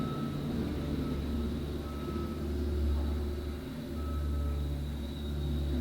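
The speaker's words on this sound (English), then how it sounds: "he has a skid steer back there going crazy right now" Faint, steady reversing beeps from a skid steer repeat in the distance over a constant low rumble of machinery, with no talking.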